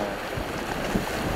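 Wind rushes steadily past the microphone at an island harbour as tidewater rises and waves wash around moored boats, a continuous broadband roar with no voices.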